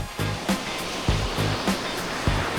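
Ocean waves breaking at Hiratsuka beach on a day of offshore wind and liner waves used for skimboarding, a steady wash of surf with several soft crashes roughly every half second to second, no voices.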